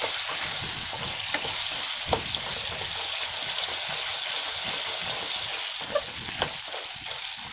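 Mustard seeds, cumin, chana dal, peanuts, urad dal and dried red chillies fry in hot oil in a village kitchen, giving a steady, fairly soft sizzle with scattered small pops and crackles throughout.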